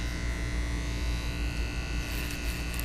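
Electric hair clippers drone steadily while cutting hair clipper-over-comb during a temp fade, a close, continuous buzz with faint clicks of the blade against the comb near the end.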